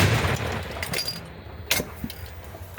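An M119 howitzer fires at a position near Bakhmut: a single sharp, booming report lands about two-thirds of the way through, standing out from low background noise with a short rumbling tail after it.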